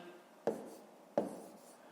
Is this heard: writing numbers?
yes